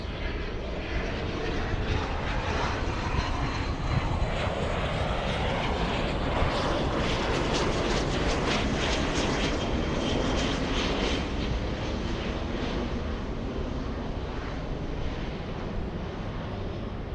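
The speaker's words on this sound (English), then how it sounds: "We have an exec jet coming in." A business jet coming in to land at LAX in Los Angeles, its engines a steady, loud roar that holds throughout with no voices over it.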